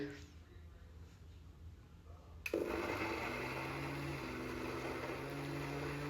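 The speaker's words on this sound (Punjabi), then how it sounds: "ਚਟਨੀ ਨੂੰ ਦੇਖੋ ਮੈਂ ਇਸ ਤਰ੍ਹਾਂ ਮਿਕਸੀ ਦੇ ਵਿੱਚ ਪੀਸ ਲਿਆ" A kitchen mixer grinder is blending raw mango and mint chutney with a little water. A low hum comes first, then the motor kicks in abruptly partway through and whirs loudly and steadily to the end.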